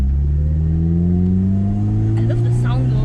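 A Mercedes-Benz SLK R171 engine hums and rises in pitch as the accelerator is pressed, a loud close revving drone with a voice talking over it near the end.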